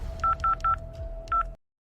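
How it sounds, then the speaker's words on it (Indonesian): Four short touch-tone beeps ring out as a phone number is keyed in, three in quick succession and then one more after a pause, over a steady low tone and background hum. "Aku telepon mereka sekarang."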